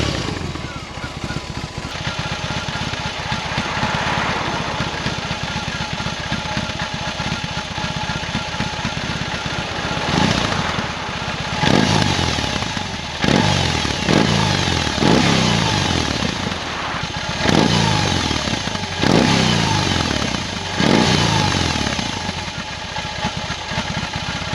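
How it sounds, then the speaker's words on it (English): A BMW R18 shaft-driven motorcycle idles in neutral with a loud, steady engine rumble, then gets revved several times in quick bursts that rise and fall before it settles back to idle. "Sound test of this beast."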